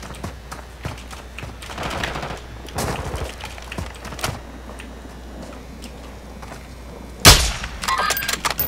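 Video game gunfire: scattered shots and short bursts throughout, ending in a sharp, loud blast followed by rapid crackling fire.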